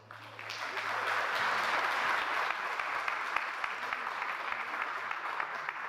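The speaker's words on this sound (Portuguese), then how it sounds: "Vamos aplaudir Jesus." Steady, sustained applause from a church congregation during a worship service, dense clapping holding at an even level for the whole stretch with faint voices mixed in.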